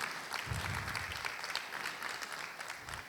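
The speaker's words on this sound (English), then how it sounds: "Another round of applause, please, for Mr. Balu." Attendees at a PAPSS roadshow event in Ghana clap together in a brief, dense burst of applause, with faint low voices murmuring underneath.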